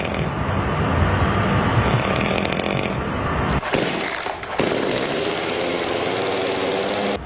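A passenger snoring loudly in a Taiwan Railway train carriage, a harsh, rasping roar like a chainsaw or revving motorbike engine, steady and close, with a brief dip midway before resuming just as loud.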